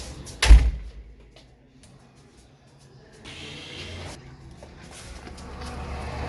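A door bangs shut with a single sharp thump near the start, followed by quiet room tone and some soft rustling and shuffling afterward.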